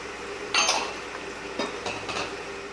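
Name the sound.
tossing onions and green chillies frying in oil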